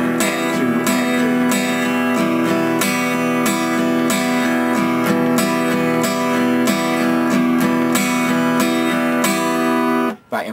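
Pick-strummed guitar chords in a steady eighth-note pattern with three of the off-beat upstrokes accented, the ringing strums playing loud and continuous until a sudden stop at the end.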